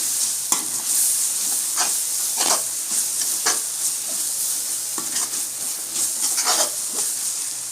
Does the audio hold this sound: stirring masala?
yes